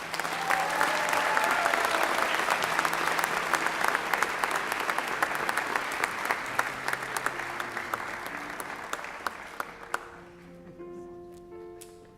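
Steady, dense applause from an awards ceremony audience honoring school principals fills the hall, loud and sustained, then thins into scattered claps and fades near the end.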